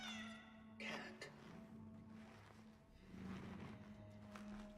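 A cat meows in Cronos: The New Dawn, a video game, giving a couple of short, clear calls over a low steady background hum, with a voice talking quietly in between.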